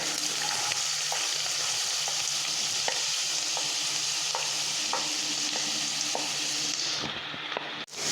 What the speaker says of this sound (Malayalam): ഞാനിതിലേക്ക് രണ്ട് സവാള പൊടി പൊടിയായി അരിഞ്ഞത് കൂടി ചേർത്ത് കൊടുക്കുന്നുണ്ട്